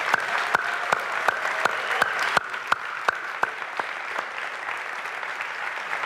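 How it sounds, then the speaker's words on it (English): Applause from students and faculty at a high school senior awards ceremony, broad crowd clapping with a few sharp, distinct claps cutting through at regular intervals, loud at first and easing slightly later on. "I'd like to give a warm round of applause to these amazing parents"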